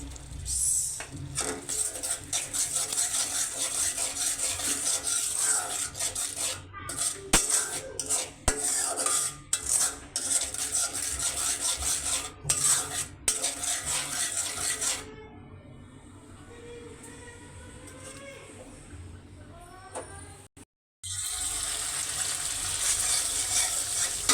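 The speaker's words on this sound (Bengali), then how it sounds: "আর মশলাটা ভালো করে কষানো হয়ে গেছে।" A metal spoon scrapes and clatters against a pot while spice paste with salt and turmeric is stirred and fried for a shing fish and potato curry, with continuous rhythmic scraping and a brief pause near the end.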